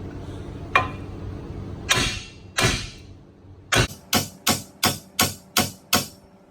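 A hammer swung against a Dodge Ram 4x4 1500's steering knuckle to knock out the ball joint: about ten sharp metallic strikes, three spaced apart, then a quick steady series, loud and close, with no talking.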